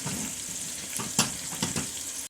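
A pan of salt-and-peppered steak for steak pizzaiola sizzles steadily, with a few sharper scraping bursts as the pieces are stirred around, close and alone.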